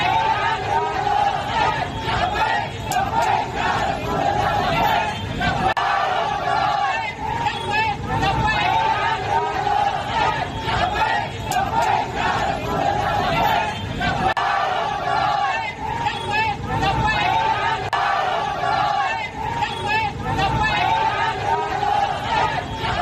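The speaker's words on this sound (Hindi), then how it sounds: "लब्बैक के नारे लगाती हुई दिखाई है दंगाई की टीम।" A rioting crowd in Nagpur, made up largely of young men, chants slogans amid dense, continuous babble and shouting, loud and sustained throughout.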